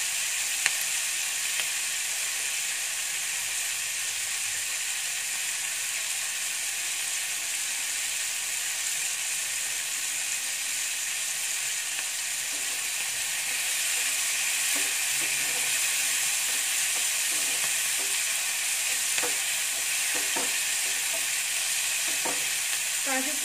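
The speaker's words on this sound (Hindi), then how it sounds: "इसको मुलायम होने तक नहीं भूनना है।" Cashews fry in a kadai with a steady, close sizzling hiss throughout, and a few light stirring scrapes and clicks come through toward the end.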